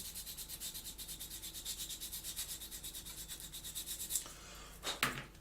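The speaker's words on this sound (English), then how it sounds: "stick a file on the back of it, as we've done before" A file rasps back and forth against the inside of a 1/48 scale plastic Sea Vixen model kit part, with steady rhythmic strokes that stay close and moderate in level, then end with a couple of louder scrapes near the finish.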